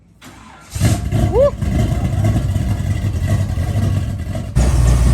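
A 1989 Chevy box with a carbureted engine, primed with starter fluid on a 50-degree day, cranks briefly, catches and settles into a loud, rough rev close by, while a voice whoops over it.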